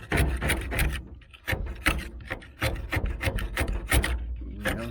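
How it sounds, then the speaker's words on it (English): A hand scraper scrapes decals off the body of a 1978 El Camino SS in repeated rough strokes, close and raspy, with short pauses between passes. "use a scraper here. I'll show you."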